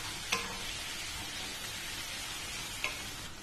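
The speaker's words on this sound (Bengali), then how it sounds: "প্রথমে আদা বাটাটা দিলাম। আদার কাঁচা গন্ধটা যাওয়া পর্যন্ত এটাকে একটু ভালো করে কষে নেব।" Ginger paste sautéing in a pan for prawn pulao gives a steady, close sizzle, broken twice by sharp clicks of a spoon against the pan.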